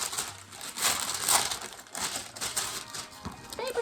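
A large plastic bag holding planner stickers and paper sheets crinkles and rustles steadily as it is handled nearby, a soft continuous crackle with no talking.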